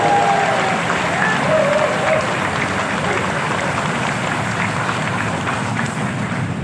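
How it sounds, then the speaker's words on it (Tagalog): Steady, dense applause from a crowd, clapping continuously at an even loudness for several seconds. "isang mainit na palakpak bilang pasalamat sa MMDA family"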